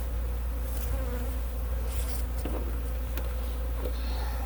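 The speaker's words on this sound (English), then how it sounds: "this is telling me that it is my original bees that are getting angry with me" Angry honey bees from an aggressive, opened hive swarming close by, a dense, steady buzzing drone with individual bees zipping past, no talk over it.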